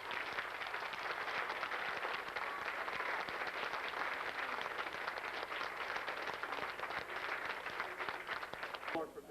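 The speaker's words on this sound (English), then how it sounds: "can we give the band another round of applause?" A 1992 high school band concert audience gives a sustained round of applause for the band, steady and even for several seconds in a large room, with a voice faintly under it near the end.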